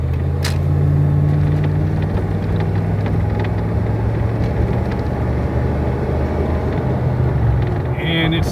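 A 1995 GMC 1500 SLE pickup truck accelerates after a turn, its engine a steady low rumble that holds throughout with a faint road drone, while someone speaks over it.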